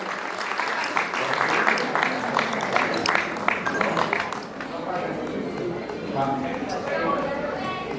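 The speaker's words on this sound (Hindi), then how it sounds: "जोरदार तालियों से बेटी का स्वागत, अभिनंदन।" Loud, sustained applause from a crowd at a Basant Panchami fair in Kanvashram, Uttarakhand, welcoming a girl who finished a cross-country race; dense rapid clapping fills the whole stretch, dipping briefly midway before surging again, with voices mixed in.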